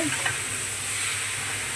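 Prawns frying in a pan with a steady, close crackling sizzle that stays even throughout, with a few faint clinks at the start and no voices.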